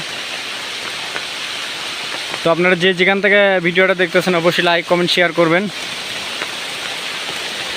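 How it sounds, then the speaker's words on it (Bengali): Heavy rain in Bogura district pours in a constant, dense hiss from start to finish while someone speaks over it for a few seconds in the middle. "এতটা পরিমাণ বৃষ্টি হইতেছে"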